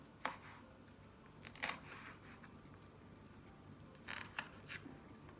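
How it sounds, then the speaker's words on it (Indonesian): A knife slices lengthwise through red chili peppers, curly red chilies and red bird's eye chilies, on a board, giving a few soft, close, crisp cuts separated by pauses in a quiet kitchen. "Dipotong memanjang seperti ini."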